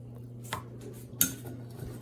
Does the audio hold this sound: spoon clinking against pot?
yes